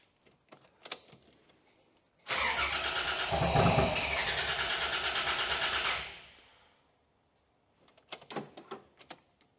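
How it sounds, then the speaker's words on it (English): A car engine fitted with an aftermarket ECU cranks and fires, running loud and close for a few seconds before dying away, with brief clicks and knocks around it and no talking. "But the aftermarket ECU does start the car."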